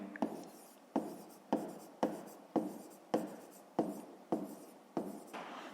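Pen writing on paper during a fifth-grade math exercise, a series of about nine distinct scratching strokes at regular intervals, each starting with a sharp tap and trailing off, close and quiet with no talk.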